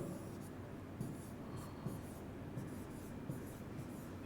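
Pen on paper writing out a math solution by hand, a soft continuous scratching with faint periodic taps, steady and close, with no voices.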